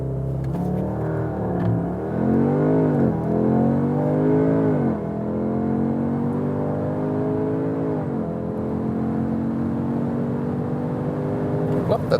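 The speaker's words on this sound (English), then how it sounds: "Really nice acceleration due to this all-wheel drive, also punch from the rear, but very smooth and even out" Audi S3 Sportback with all-wheel drive accelerating hard on a test track, heard from inside as the engine climbs through several gears in rising whines and brief dips at each shift, with a voice talking over it.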